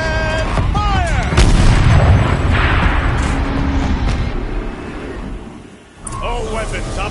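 In a video game, a tank turret cannon fires with a heavy boom and rolling rumble, amid dense battle noise, with voices speaking over the din.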